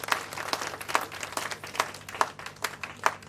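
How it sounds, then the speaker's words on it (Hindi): Audience applause at an event, a thin scatter of clapping with distinct individual claps in an uneven rhythm, moderately loud and fairly close throughout. "जोरदार तालियां उनके लिए।"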